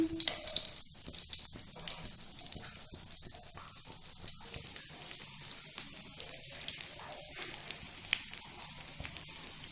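Aloo tikki potato patties fry in a pan over a medium flame, giving a faint, steady crackling sizzle with fine popping throughout.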